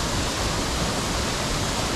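Waterfalls near Samaipata, Bolivia, roar as a steady, dense wash of falling water, loud and close, unbroken from start to finish with no voices.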